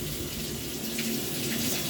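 A faucet runs steadily with a broad rushing hiss as air is pushed out of a water heater, close and continuous, with no voices.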